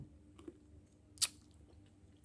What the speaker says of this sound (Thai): นี่จะกินให้ดู เราเคี่ยวเมล็ดเลยค่ะ